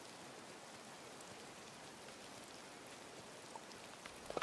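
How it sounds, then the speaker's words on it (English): Soft, steady rainfall from Disney Dreamlight Valley, a faint even patter and hiss throughout with a couple of small louder taps at the very end, no talking. "This rain is really raining."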